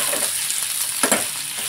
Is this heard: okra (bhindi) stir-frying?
yes